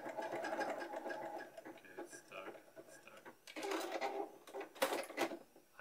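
A sewing machine runs in stretches of rapid, buzzing stitches through fabric at close range, while a person talks over it.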